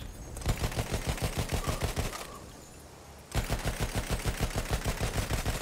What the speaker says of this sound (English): Ah, he's shooting at us.